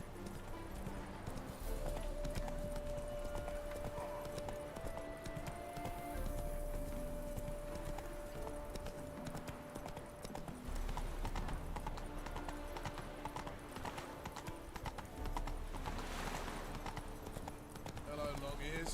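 Hooves clip-clop steadily from a galloping horse in The Witcher 3, with voices talking over the rhythmic footfalls and background game music.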